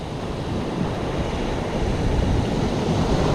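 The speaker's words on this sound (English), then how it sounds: "Probably can't hear me because it's windy." Strong wind buffets the microphone over the low roar of surf at Alkimos Beach after sundown, a continuous rumbling gust with no talking.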